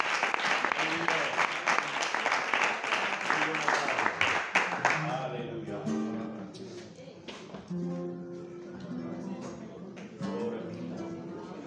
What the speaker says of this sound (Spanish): Un fuerte aplauso para Dios.